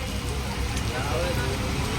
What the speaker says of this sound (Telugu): చూడండి, ఇలా ఇక్కడైతే ఇలా వర్షం వస్తుంది.